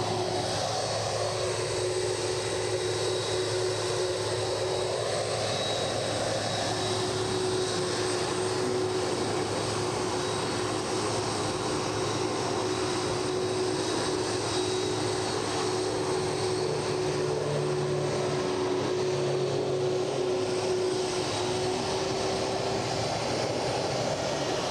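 G-OLIV, a propeller aircraft, comes in on short final at Edinburgh, a steady, moderately loud engine drone with a sustained tonal hum through the whole stretch.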